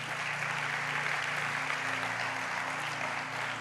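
A church congregation applauds God during a service, a steady, fairly faint wash of clapping with a low sustained hum underneath.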